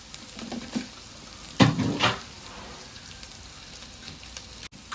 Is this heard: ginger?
yes